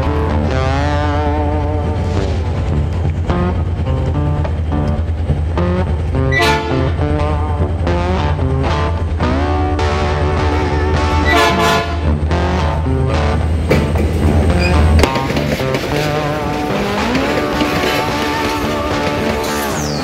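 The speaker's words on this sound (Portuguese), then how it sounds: "Tá vindo o trem." A train passes on a railway line near a viaduct and tunnel in Ipê, Rio Grande do Sul, heard as a loud, steady low rumble and rolling clatter throughout, with a brief horn-like toot partway through and no talk.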